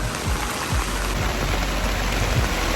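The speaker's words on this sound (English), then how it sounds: "all of a sudden it starts pouring rain, like heavy rain" Heavy rain pours down outdoors at an event where a wooden cart, table and displays stand in the open, a dense, constant loud hiss with no break and no voices.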